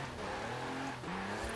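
In Forza Horizon 4, a diesel-engined drift car revs hard, a loud, continuous engine drone that climbs, drops sharply around a gear change, then rises again.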